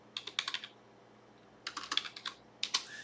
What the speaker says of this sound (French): Et on tape l'adresse IP.